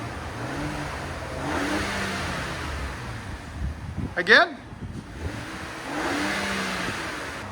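A 2025 RAM 1500's straight-piped 3.0L twin-turbo inline-six exhaust drones steadily with a brief louder rev burst in the middle, heard from a short distance behind the truck, with a person speaking briefly.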